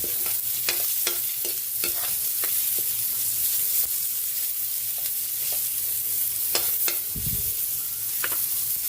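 Onion frying in a pan for chicken tinola, a steady close sizzle with stirring clatter and scraping spoon knocks throughout, plus a brief louder burst near the end.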